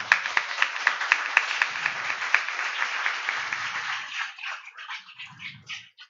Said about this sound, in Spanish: Así que un aplauso para Miguel por tantos años.